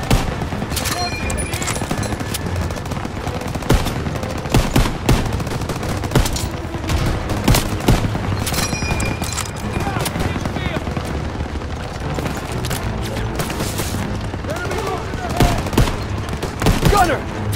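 Machine-gun fire from MG-42 nests in a Call of Duty: WWII battle during Operation Cobra, with tanks nearby. Loud, dense bursts and booms keep rolling under shouted soldier commands.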